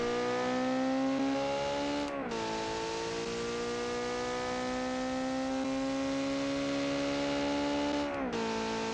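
A turbocharged car engine in the BeamNG driving game, built to recreate a Ford RS200 engine, drones loudly as it accelerates at high speed, its pitch climbing steadily with two brief dips at gear shifts.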